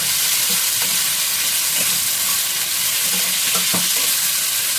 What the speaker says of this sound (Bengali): আবার এটা হালকা করে একটু ফ্রাই করে নিতে হবে